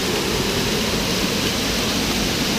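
The Cascade des Tufs waterfall, heard close up, gives a dense, steady roar of falling water, loud and unbroken, with no voices over it.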